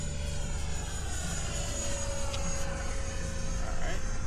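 A light aircraft engine drones steadily during a landing approach at a small airfield on a foggy morning, a continuous loud hum with a low rumble, while a voice talks over it.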